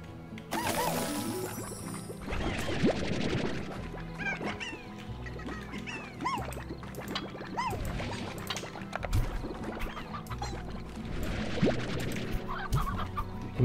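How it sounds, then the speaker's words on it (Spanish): Chickens clucking in a coop in the farming game Slime Rancher, a busy overlapping chorus of clucks and squawks repeating throughout, near and fairly loud, with no talking. "Y metemos aquí las gallinas."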